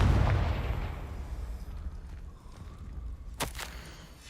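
A Confringo spell blast in the Hogwarts Legacy video game, heard as a low rumbling boom that fades over a few seconds, followed by a brief sharp crackling burst near the end.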